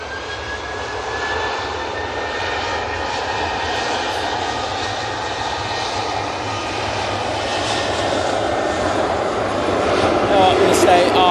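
An Etihad jet airliner rolling out on the runway at Manchester Airport, a steady engine roar with a thin whine that builds gradually louder toward the end, heard from a distance with no foreground voices.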